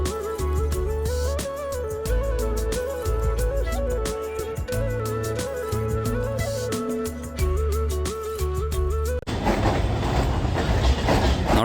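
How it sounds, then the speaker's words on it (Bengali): A commuter train bound for Belgharia runs on its rails. Loud, close, broadband rumble and rattle take over in the last few seconds after a stretch of music. "আমরা উঠে পড়লাম বেলঘুরিয়া ট্রেন।"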